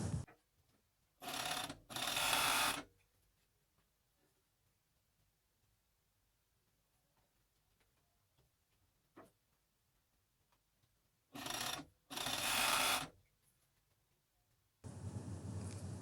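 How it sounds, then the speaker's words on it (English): Coverstitch machine sewing the side seams of top sleeves, heard as two separate pairs of close, loud whirring bursts, each lasting about a second, separated by long quiet gaps, with a sustained run of stitching at the end. "I'm going to sew the side seams of both sleeves."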